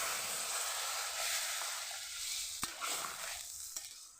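Water poured onto thick-cut frying brinjal in a pan sets off a loud hissing sizzle that gradually calms, broken by a couple of sharp stirring clacks.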